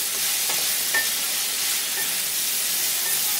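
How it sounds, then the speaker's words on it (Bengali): Raw banana pieces fry in hot oil with onions, giving a steady close sizzle and hiss with a few soft stirring clicks and no talk. "এখন এটাকে 2 মিনিট মতো একটু তেলের মধ্যে ফ্রাই করব।"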